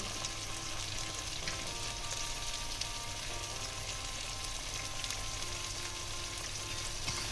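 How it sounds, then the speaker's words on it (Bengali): Tomatoes with salt and turmeric fry in a pan for a pomfret fish curry, giving a steady, even sizzle that holds at a constant level with no talk. "এবার কিছুক্ষণ ভালো করে ভেজে দেবো টমেটোটা"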